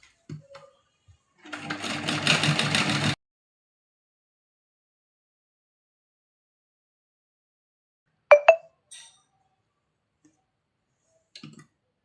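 Sewing machine stitching tucks on a blouse, one short burst of steady rapid stitching, followed by a few sharp clicks and faint handling sounds in a quiet room.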